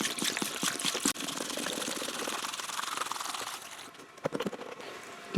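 Evapo-Rust rust remover poured over a bike chain in a container: splashing, gurgling liquid pouring with brief clinks and a pause before a final burst of splashing, close and moderately quiet.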